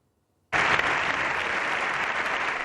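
Ovation for Zelensky in the Spanish Congress: dense applause from a large chamber bursts in suddenly and holds at a steady, full level.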